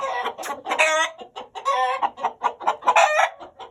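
An Aseel breeder rooster, red, a four-time winner, gives a run of loud, close clucks and short crowing calls in repeated bursts, with no voices around.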